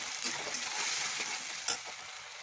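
A ground paste of garlic, onion and green chilli frying in oil, giving a close, continuous hiss with scattered spatter crackles and a brief louder stir near the end, with no talking.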